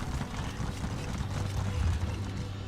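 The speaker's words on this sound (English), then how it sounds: "Good thing this horse is so fast." A horse gallops in The Elder Scrolls Online, its hooves drumming in a steady fast rhythm close up, carrying on without pause under the game's background sound.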